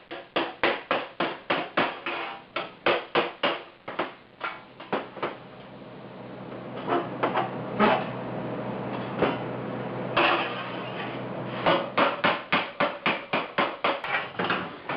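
A hammer pounds a warped sheet metal panel from a 1976 Mazda RX-5 Cosmo back into shape, sharp metallic blows in rapid regular bursts, close and loud, with a noisier stretch of scraping and handling between the hammering runs.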